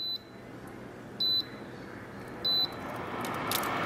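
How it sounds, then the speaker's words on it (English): An air purifier fan runs at its highest speed, a steady broadband whoosh that grows slightly louder toward the end, punctuated by two short electronic control-panel beeps. "You can adjust the fan speed."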